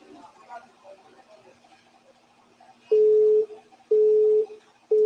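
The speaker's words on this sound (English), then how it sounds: "The line is busy." Repeated telephone busy-signal tones, three loud steady beeps at regular intervals over a phone line, following a stretch of faint background talk.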